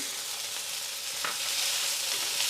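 Lean pork marinated in corn flour and squid balls fry in a hot wok for a Foochow rice paste soup, giving a steady, fairly loud sizzle with a brief clack of a utensil midway.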